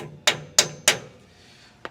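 Three sharp metallic hammer strikes on 1959 Dodge front end parts in quick succession, ringing briefly, then a pause and a fourth lighter tap.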